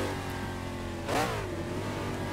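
Classic American race car from the GT Legends mod in the Assetto Corsa racing game, its engine droning steadily then rising in a sharp rev burst midway before settling back to a constant hum, loud and alone with no talking.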